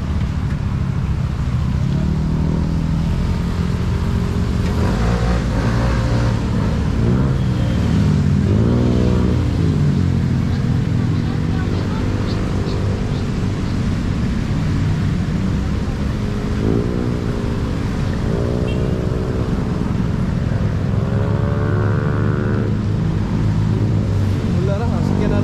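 A Toyota Hilux drives by in a typhoon-damaged barangay in Liloan, Cebu, its engine a steady loud rumble with rising and falling revs, mixed with passing traffic and someone talking.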